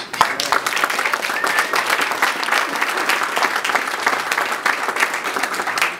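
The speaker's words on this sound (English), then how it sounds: "So a big round of applause for our board members." Sustained applause from a large crowd, dense and steady clapping that continues loudly throughout without pause.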